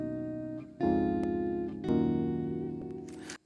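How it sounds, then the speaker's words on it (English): A guitar and a dark piano synth layer together in parallel, sounding a few sustained chords that swell in and hold before cutting off, clear and alone with no talk. "So guitar और piano parallel layer पे they sound like this."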